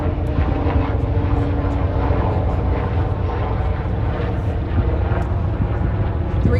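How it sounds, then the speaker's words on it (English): A steady, loud helicopter rotor and engine drone fills the air continuously, a low rumbling roar passing close overhead above Boston Harbor. "I'll wait for this helicopter."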